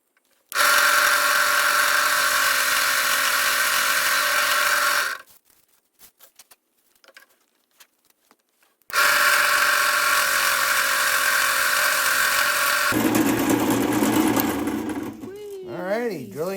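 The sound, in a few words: power drill drilling holes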